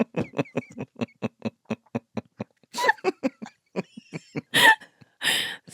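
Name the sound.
coughing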